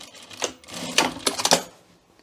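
A sewing machine stitches the top seam of a welt pocket in a few short, rattling bursts with quiet gaps between them.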